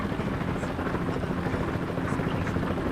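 A helicopter flying in the Euro Truck Simulator 2 driving game, its steady rotor thump loud and continuous throughout, filling the scene without any talk.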